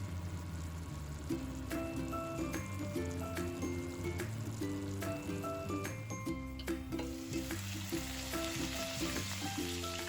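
Steady, soft sizzling of chicken wings frying in a pan, with faint musical tones playing underneath.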